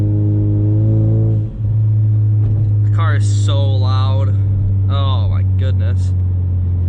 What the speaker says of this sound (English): The car is so loud.